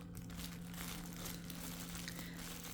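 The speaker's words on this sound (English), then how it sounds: "I save these little plastic bags when I get them like this" Small thin plastic bag being handled and crumpled, giving a continuous soft crinkling with scattered sharper crackles, close and fairly quiet over a steady low hum.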